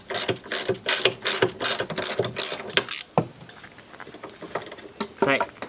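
A ratchet removes a nut from a Jeep TJ seat bushing with a series of close, rhythmic clicking bursts that give way to quieter handling and a final short rattle.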